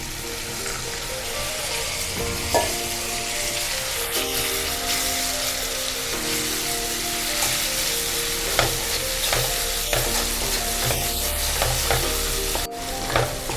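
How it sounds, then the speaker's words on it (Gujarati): A spoon scrapes and stirs through sizzling masala of salt and crushed garlic chutney in a pan for Gujarati-style brinjal bharta, repeated clinks and scrapes over a steady frying hiss, no talking. "છે થોડું પાણી નાખી હલાવશું"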